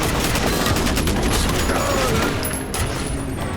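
Enemies fire nail guns in the shooter FEAR Perseus Mandate, a loud, sustained volley of rapid overlapping shots with no pauses.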